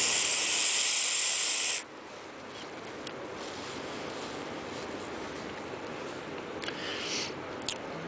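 Thick vapour exhaled from an e-cigarette running a 40/60 PG/VG liquid, a loud breathy hiss lasting under two seconds, followed by quiet room tone with faint rustles.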